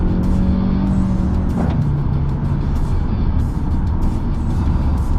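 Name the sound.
car driving at 100 km/h on Dunlop LM705 tyres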